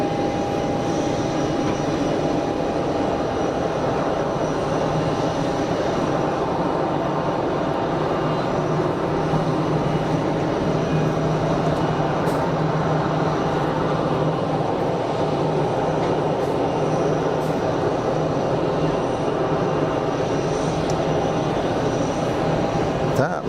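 A Pegasus Airlines Neo airliner roars continuously at Geneva Airport, a broad, loud jet rumble heard from a plane-spotting spot that holds steady for over twenty seconds.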